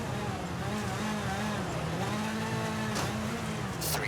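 Rally car engine in the WRC racing video game, a sustained high-revving drone with rising and falling pitch as it pulls through high gears at speed, steady and close, with a brief crackle near the end.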